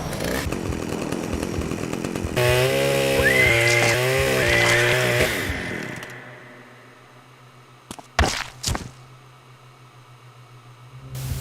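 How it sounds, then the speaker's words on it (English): A chainsaw in the video game Manhunt revs loudly with a buzzing, wavering whine for a few seconds, then cuts out, leaving a low hum and a couple of sharp thuds. "liberate Pigsy of his trusted chainsaw"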